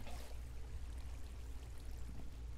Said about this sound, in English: Water bucket so we can land safely.